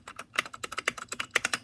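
Rapid clicky keystrokes on a small Royal Kludge RK61 mechanical keyboard, about a dozen sharp close taps in quick irregular rhythm, with no voices.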